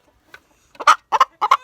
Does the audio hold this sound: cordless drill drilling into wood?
no